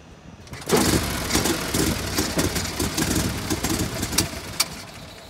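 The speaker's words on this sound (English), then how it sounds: "I think that I'm gonna start this bad boy up." A Yamaha XSR motorcycle engine turns over and fires after a short quiet moment, then settles into a loud, close, uneven idle with sharp popping pulses.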